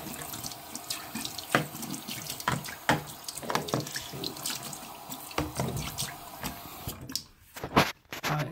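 Running water from a tap pours steadily over waterproof headphones, splashing and gurgling close up with irregular knocks, then cutting briefly near the end before resuming.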